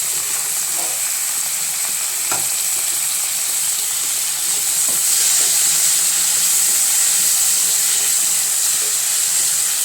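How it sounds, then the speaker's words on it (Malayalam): Chickpeas tipped into a pan of curry for puttu and kadala, a steady loud sizzle of frying with soft scraping stir strokes and a brief clatter as they go in. "ഇത് നമുക്കിനകത്ത് കടലയിട്ട് കൊടുക്കാം കേട്ടോ."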